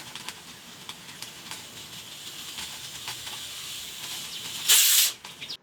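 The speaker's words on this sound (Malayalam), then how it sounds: "നമുക്ക് ഒന്ന് കുക്കർ മൂടി ഒരു 2 വിസിൽ വരുന്നവരെ ഒന്ന് കുക്ക് ചെയ്യണം" A pressure cooker holding egg roast masala gives a steady low steam hiss, then a loud, sharp burst of escaping steam near the end that cuts off abruptly.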